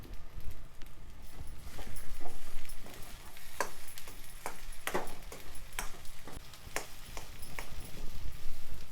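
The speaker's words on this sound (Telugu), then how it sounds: "అంతా ఒకసారి బాగా కలుపుకోవాలి." Spoon clinking and scraping through aloo masala curry with chopped coriander in a pan, a string of sharp irregular taps over a steady low background, close and moderately loud.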